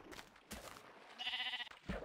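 A sheep bleats in Minecraft, a short nasal game-animal cry with a wavering tone, heard close and alone among brief game sound effects.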